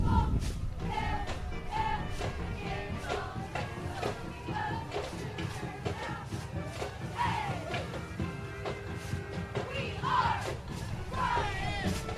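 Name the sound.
high school cheerleading squad doing a cheer at a parade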